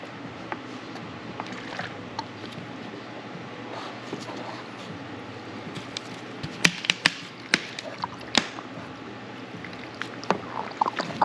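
Soapy water flushed through a car's sunroof drain, a faint wet trickling and gurgle with scattered sharp drips and splashes, quiet and close in an otherwise still garage.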